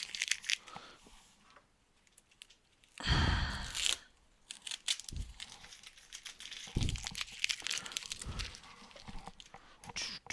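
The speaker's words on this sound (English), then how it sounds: "As soon as I get this tape off the bundle" Tape being pulled and peeled off a bundle of comic books, giving irregular crinkling and tearing bursts of varying loudness, close by.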